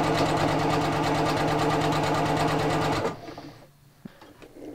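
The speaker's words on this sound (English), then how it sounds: "Okay, as you can see, it's just stitching along very nicely." A sewing machine stitches bias binding at a fast, even rhythm, loud and close, then stops abruptly, leaving quiet handling noises.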